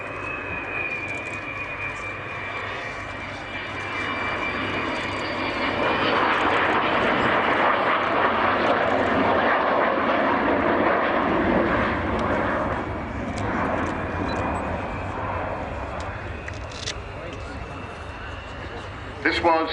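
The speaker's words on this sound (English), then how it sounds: "Coming back in towards us now, flown from the left-hand seat today by Kev Rumins." Avro Vulcan B2 bomber XM607 flies back in at the Waddington airshow with a loud, sustained jet roar that swells and holds, while an announcer talks over it.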